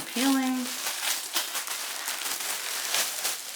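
Packaging being peeled open during a Chanel unboxing, a close crinkly tearing and rustling that starts with a short tonal squeak and continues in scattered crackles.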